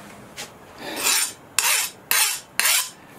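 A steel file rasps across the steel of a bushcraft knife blade clamped between angle iron in a vise, skating rather than biting, in four or five loud, separate strokes with short pauses between them and no talk.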